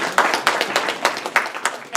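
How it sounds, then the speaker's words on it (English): An audience claps for the staff of a lunch-and-learn Torah class, a short burst of scattered, moderately loud hand clapping with some voices mixed in. "So let's give them a big round of applause."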